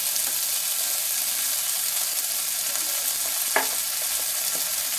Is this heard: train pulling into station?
no